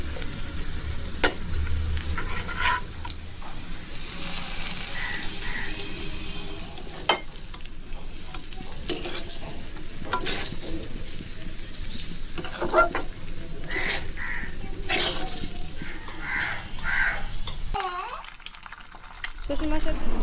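Panch phoron spices fry in hot oil in a pan, giving a bright, continuous sizzle with stirring scrapes and taps, briefly dropping away near the end, with no talk.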